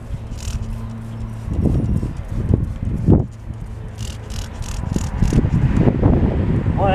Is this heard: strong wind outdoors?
yes